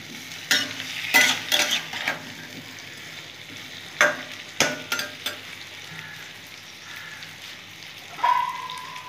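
Sweet pumpkin frying in a pan for misti kumro chokka, bursts of sizzling and spatula scrapes come and go over a low steady frying hiss, close with no voices.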